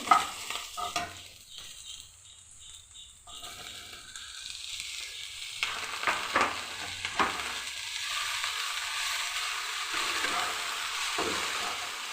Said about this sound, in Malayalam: സവോള ചെറുതായിട്ട് വാടി വന്നിട്ടുണ്ട്, അത്രയേ വേണ്ടൂ. പിന്നെ ഇതിലേക്ക് തേങ്ങ ഇടണം.